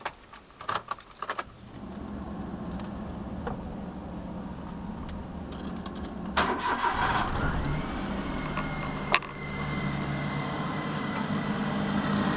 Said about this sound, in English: After that, we can start the vehicle.